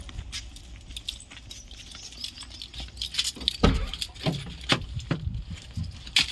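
Car keys jangle close by in small metallic bursts, handled just before starting a CNG car, with light rustling and handling noise around them.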